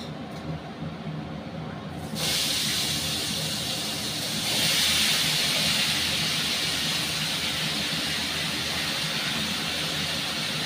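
Chopped raw jackfruit goes into hot oil in a home kitchen and sizzles with a steady broadband hiss that swells louder partway through and holds without talk.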